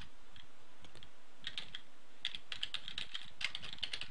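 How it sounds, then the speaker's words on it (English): Someone types code slowly on a computer keyboard, with quiet, irregular key clicks that grow denser toward the end and no talking. "Gotta type that slow so I don't mess it up."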